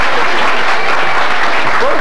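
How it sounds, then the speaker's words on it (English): A studio audience at a 1989 Illinois Lottery Fortune Hunt game show breaks into loud, sustained applause, a dense wash of clapping that fills the room without pause. "And the crowd goes wild, Joe."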